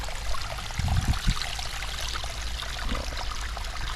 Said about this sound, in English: We do have a good flow of water going through the pipe